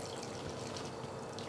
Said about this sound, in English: I'm just going to put a clean cotton tea towel over the fine mesh strainer and very carefully pour the stock through.